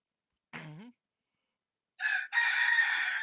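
A rooster crows twice, a short clear call followed after a pause by a longer, loud crow, standing alone against near silence.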